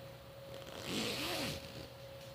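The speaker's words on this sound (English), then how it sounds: "The fabric is caught under the zipper" A single short zipper pull on a bag, close and quiet, a quick scraping zip lasting under a second against a faint hum.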